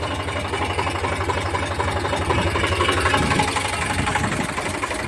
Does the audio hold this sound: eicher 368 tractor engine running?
yes